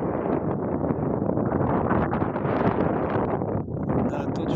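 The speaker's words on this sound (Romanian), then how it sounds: "Bate un vânt foarte rece." Cold, penetrating wind blowing by the Dniester river near a village, a loud continuous roar buffeting the microphone for the whole stretch with no pauses.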